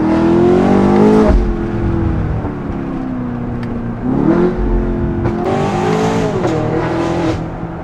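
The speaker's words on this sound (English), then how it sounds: "with the Valvetronic full exhaust, it just accentuates that whip crack and you actually get like a crack between the shifts" A 2024 BMW X5 M Competition with the S68 V8, free-flow downpipes and a full valved exhaust revs hard and loud, with sharp whip-crack pops between gear shifts as the engine note climbs and drops repeatedly.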